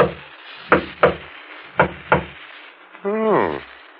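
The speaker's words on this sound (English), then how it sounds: "There's a discreet knock on the door at the front of the shop." A discreet knock at a shop's front door in a radio drama, two pairs of crisp wooden raps close by, followed by a brief voiced sound afterward.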